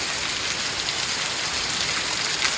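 Rain falls steadily on a mango orchard, an even, dense hiss with no break or change in loudness.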